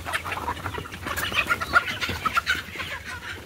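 Golden Misri hens cluck in a steady, busy run of short calls, fairly close, with several birds overlapping and no talk.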